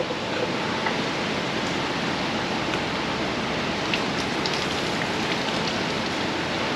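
Coolant spilling from an overturned 350 small block engine onto a shop floor, a steady close splashing wash like pouring rain, continuous and fairly loud with no talking.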